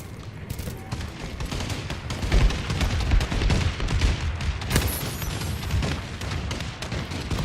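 Bombing run in Call of Duty Advanced Warfare, a dense rolling barrage of blasts and rumbling explosions with scattered gunfire, loud and continuous.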